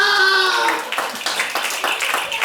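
Scattered applause from an audience for a child at a storytelling show, starting just as a voice fades and continuing as irregular, moderately loud claps.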